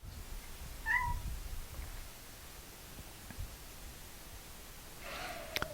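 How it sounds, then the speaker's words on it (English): A cat gives a short meow, then a second louder meow near the end, against quiet background hiss. "he's going to make all kinds of crazy cat-like noises here"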